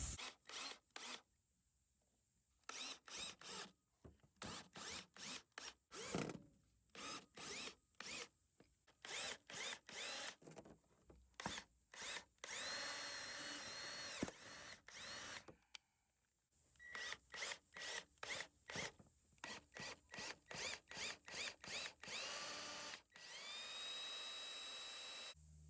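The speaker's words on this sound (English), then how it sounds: "Even pre-drilled to fit these screws, that aluminum is so thick that it is snapping these screws." Power drill driving exterior deck screws through wood into thick pre-drilled aluminum on a trailer being rehabbed: repeated loud bursts of whirring, some short and stuttering, others longer whining runs with high screeching as screws bind, separated by brief pauses.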